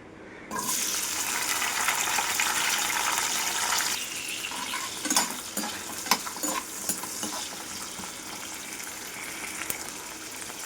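Onions hit hot oil for chinthamani chicken with a sudden loud, broad sizzle that stays strong for a few seconds, then settles into a softer crackle with occasional stirring scrapes.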